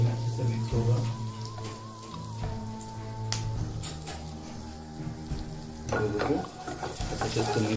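Garlic sizzles and is stirred in about a teaspoon of hot oil while cooking Chinese-style Maggi noodles, a steady crackling fry with scraping stir strokes throughout, no voices.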